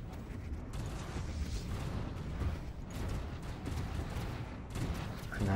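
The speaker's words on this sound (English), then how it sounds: "And there go my my allies' rockets. No, my vassals' rockets. Streaming overhead. Hitting the shields out here." Rockets fired by allied ships streak overhead and strike shields in a Stellaris space battle, a dense rumbling barrage of repeated impacts and mechanical clatter that continues throughout.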